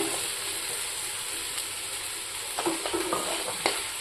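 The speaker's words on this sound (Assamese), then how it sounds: "এনেদৰে 5 মিনিটমান পানী চানী নিদিয়াকৈ লৰাই থাকিলেই হ'ল" Paneer stirred with lentil paste in a frying pan, a constant hiss and sizzle with a few scraping strokes toward the end, close and unaccompanied by speech.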